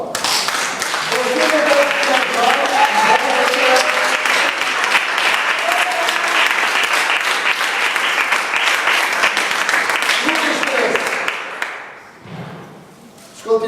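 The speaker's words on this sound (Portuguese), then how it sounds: "Posso ouvir uma salva de palmas?" A church congregation breaks into sustained, loud applause with some voices mixed in, holding steady before fading out near the end.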